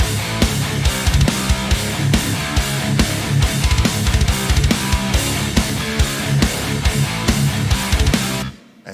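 Thick, heavily distorted rhythm guitar through a Kemper profile of a 100-watt EVH 5150 III amp, playing loud, tight palm-muted chugs with accents for about nine seconds before cutting off abruptly.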